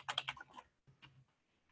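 Brief bursts of typing on a computer keyboard, a quick cluster of key clicks followed by a few scattered taps, quiet and close.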